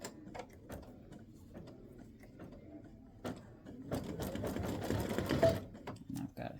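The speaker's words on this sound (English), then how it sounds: "color stop 33 is going to stitch that little hangy downy thing" An embroidery machine stitches a small dangling detail on a football turkey mug rug, a steady rapid mechanical chatter with clicks that grows louder and busier toward the end, alone without talk.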